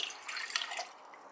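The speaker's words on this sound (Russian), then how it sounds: "И берем 175 миллилитров воды" Water pours steadily with a soft, splashy hiss, fairly quiet and continuous, no voices.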